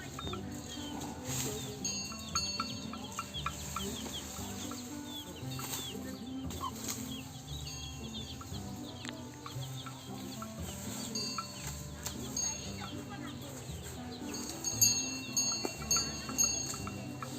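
Hens and a rooster cluck and chatter on a Thai farm, with repeated short clucks scattered throughout at moderate distance and a louder burst of clucking near the end.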